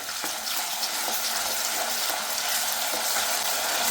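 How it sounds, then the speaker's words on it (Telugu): Ginger garlic paste frying in a pan for a colocasia tamarind curry, a steady, loud broadband sizzle with faint crackles and stirring scrapes running throughout, no talk. "ఈ అల్లం వెల్లుల్లిపాయ పేస్ట్ కూడా పచ్చివాసన పోయే వరకు ఫ్రై చేసుకోవాలి"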